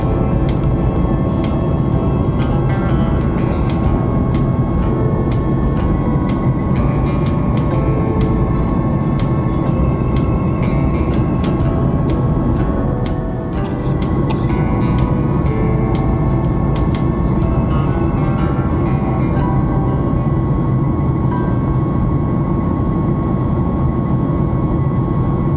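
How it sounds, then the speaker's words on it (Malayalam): An airplane landing, heard from inside the cabin as a loud, unbroken engine and air roar with a brief dip partway through. "പ്ലെയിൻ ഇതാ ലാൻഡ് ചെയ്തിരിക്കുകയാണ്"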